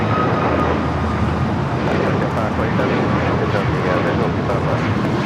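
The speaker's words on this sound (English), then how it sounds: "runway 25 right at Foxtrot, clear to take off" A jet airliner takes off from runway 25 right at Los Angeles International Airport, a loud continuous engine roar with broad rumbling noise throughout, heard alongside radio talk.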